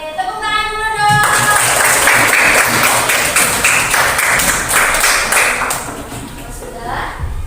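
A fourth-grade classroom of children claps together in a burst of applause, loud and close, with many hands clapping at once before it tapers off into murmuring.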